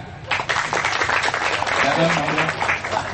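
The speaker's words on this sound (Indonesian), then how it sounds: "Tepuk tangan." A crowd at a Kenduri Cinta gathering breaks into applause, a dense wash of clapping that mixes with voices and some tonal sounds throughout.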